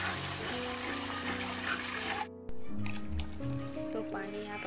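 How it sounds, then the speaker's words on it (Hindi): Water is poured into fried masala in a pan for an egg curry, giving a steady gushing splash. A brief pause is followed by a bubbling, hissing simmer with clattering. "मसाला अच्छे से भून गया है, उसमें पानी डालेंगे।"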